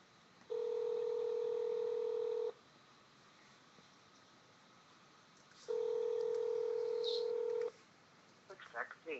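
Two long, evenly spaced telephone ringback tones sound while calling someone online, each lasting about two seconds with a pause between, heard faintly over low background hiss, with a few small noises at the end.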